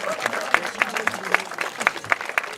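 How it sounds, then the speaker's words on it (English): Audience applause for Andrew Ketchner, a football team manager, fills a school sports recognition gathering with steady, sparse clapping from a moderate crowd, individual hand claps distinct and fairly close. "Please join me in a round of applause for Andrew Ketchner"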